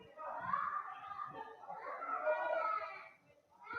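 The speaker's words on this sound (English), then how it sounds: "You hear the kids screaming in the background now." Children shrieking and shouting in the background somewhere behind a live stream, a continuous busy wash of high young voices that dips briefly near the end before rising again.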